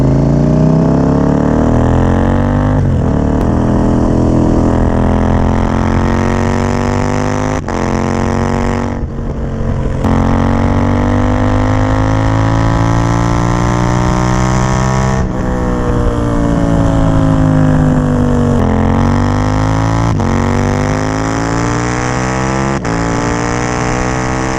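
A KTM Duke 790 motorcycle with a decatted exhaust rides along, its engine droning loud and close with repeated rising revs and brief dips at gear changes, no talking.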